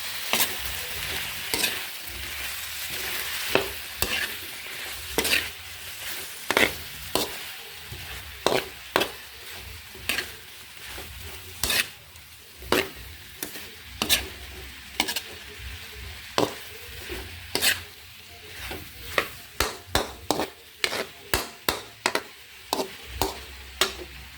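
Beef paklay frying in a pan and being stirred, with a steady sizzle beneath a long run of sharp spatula scrapes and clacks against the metal, quickening toward the end.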